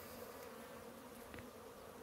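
Italian honey bees buzz around a honeycomb full of honey, a dense steady drone close by with occasional louder passes of individual bees, no talking.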